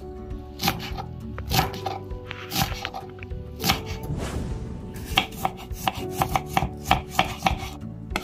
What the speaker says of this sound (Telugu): ఇప్పుడు కటింగ్ ప్రాసెస్ చూద్దామా.